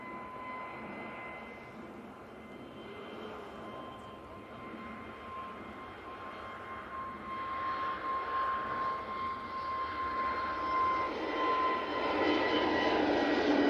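An airplane climbs out from Manchester Airport with a steady, distant engine roar that slowly grows louder over the whole span, with a faint steady tone held underneath.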